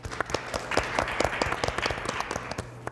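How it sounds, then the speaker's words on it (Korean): An audience at a 2020 age-friendly community policy forum applauds to welcome the discussion moderator, with a few seconds of steady, moderately loud clapping from a seated crowd in a hall. "박수로 맞이해 주시기 바랍니다"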